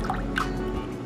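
Lemon juice drips and trickles into a cocktail glass, a few close, soft liquid drops over a brief quiet moment.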